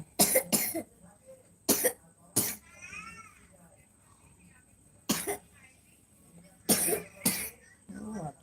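A person coughs in sharp, harsh bursts during a live stream, several grouped together near the start and more after a pause, with a brief voiced sound in between.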